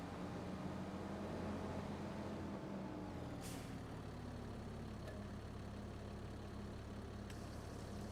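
A tractor engine in a farming video game idles with a low, steady rumble and faint whine, joined by a brief hiss partway through, all fairly quiet with no talk.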